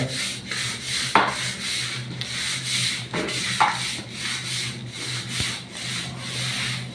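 A toilet brush scrubs a bathroom surface, producing steady close rubbing and scraping strokes with a few sharper scrapes, and no voices.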